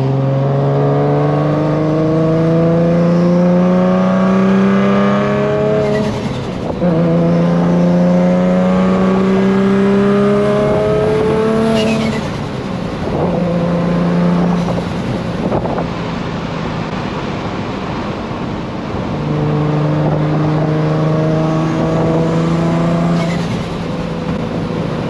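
A Nissan Z sports car engine revs loudly and repeatedly, each rising sweep of harmonics climbing then dropping off in bursts, with wind buffeting the microphone throughout.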